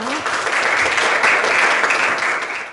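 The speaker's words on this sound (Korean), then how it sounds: "여러분 박수 부탁드립니다." An audience at an academic seminar on public education learning data applauds to welcome a professor to the stage, a dense, steady burst of clapping lasting a few seconds.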